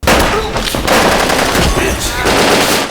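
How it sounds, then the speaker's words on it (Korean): Sustained automatic gunfire from a shootout in the 1999 Korean action film Shiri, loud, dense and continuous bursts with heavy reverberation filling the whole moment. "박용상, 쏴라"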